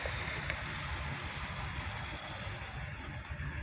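An outboard motor on a small Pacific boat runs steadily on the water, a low, even engine drone with faint water wash, heard fairly close and alone.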